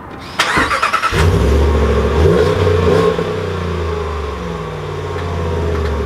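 A 2020 Ram 1500 pickup truck engine cranks briefly from a push-button start and catches, then settles into a steady, rumbling idle nearby, with no one speaking.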